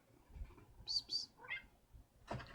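A cat gives two short high meows in quick succession, then a softer third call, fairly faint in a quiet room, followed by a brief dull thump.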